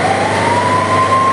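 A fire truck siren sounds at a public market fire in Biñan City, loud and close, a steady wailing tone held over a low engine rumble.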